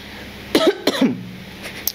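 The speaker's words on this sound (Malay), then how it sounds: "Untuk batuk pula kan." Two harsh, close coughs come in quick succession, followed by a quieter breathy sound.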